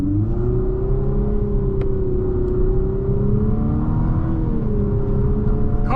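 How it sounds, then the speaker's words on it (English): A 2025 Infiniti QX55 with a CVT pulls away from a stop, its engine droning steadily with a smooth, rising then leveling pitch and faint simulated shift changes, loud and close with no talking. "Car takes off. I mean, the engine's got plenty of power."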